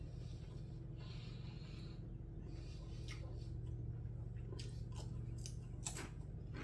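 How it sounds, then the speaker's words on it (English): Bites of a local sub sandwich being chewed close up over a low steady hum, with soft wet crunching and mouth sounds continuing throughout. "Let me get a couple bites then."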